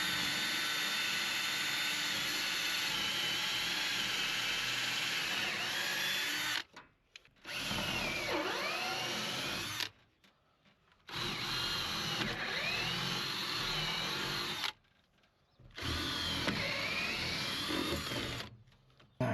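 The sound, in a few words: power drill drilling pilot holes with a 1/4-inch bit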